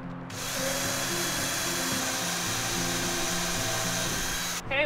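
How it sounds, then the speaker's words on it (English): Power drill boring a pilot hole for a lag bolt while securing a crawl space, a steady loud motor whine that runs continuously for several seconds before stopping abruptly. "You're going to drill in your hole."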